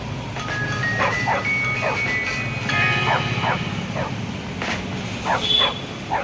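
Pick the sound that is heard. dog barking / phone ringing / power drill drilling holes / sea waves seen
dog barking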